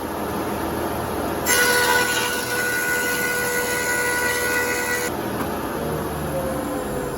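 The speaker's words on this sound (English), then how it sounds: "we just want to get both faces cleaned up on that planer" A thickness planer surfacing the face of a wooden board for ukulele sides, a steady loud whining cut that starts abruptly, holds for several seconds and then drops back to the machine's idle hum.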